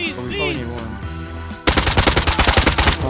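A Tommy gun fires in the video game Rust, a rapid, loud burst of automatic shots that cuts in suddenly after a stretch of tonal game sounds and keeps going to the end.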